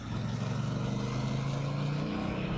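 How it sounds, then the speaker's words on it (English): Motorcycle engine held in third gear at around 50, revving steadily on an open hillside road, a continuous loud drone with a rising tone and wind rush throughout, no talk. "Like I'm in third, I get up to 50 and it feels like it's revving a bit."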